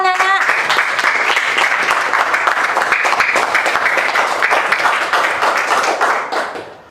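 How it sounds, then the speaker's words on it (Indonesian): Students in a classroom clap for a group that presented on rice-field ecosystems, a dense burst of applause lasting several seconds before fading quickly. "Tepuk tangan untuk kelompok ekosistem sawah, Nana."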